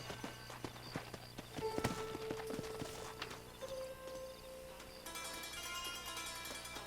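Irregular clopping of a horse's hooves in Red Dead Redemption, quiet and close, heard alongside sustained tonal game sounds and a brief higher texture near the end.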